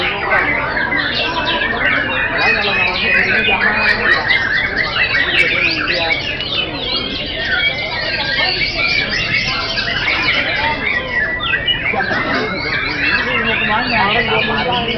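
Songbirds, murai batu, singing at a bird singing contest: a dense, continuous wash of overlapping chirps and trills from many birds at once, loud and steady throughout.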